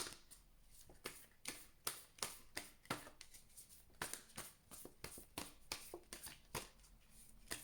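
Tarot cards are shuffled and drawn by hand in a quiet room, giving a regular series of crisp riffling snaps and flicks, close and soft, repeating roughly every half second.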